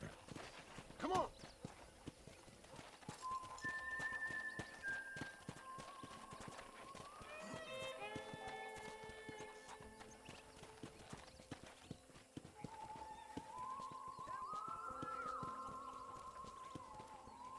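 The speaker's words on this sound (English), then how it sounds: "let's see if you can still ride a horse" Hooves of a horse ridden in the video game Red Dead Redemption clip-clop in a steady rhythm under a man's speech and tonal game music.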